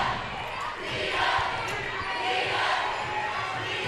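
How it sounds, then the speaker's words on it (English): A high school girls' basketball crowd in a gym roars with a sustained wash of chanting and cheering at defence, loud and continuous, with an announcer's voice talking over it. "Here are the D-up chants"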